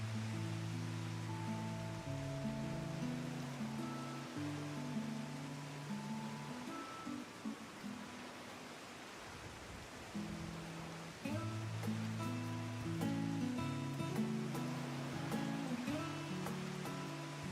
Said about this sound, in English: Chat, why is it always raining?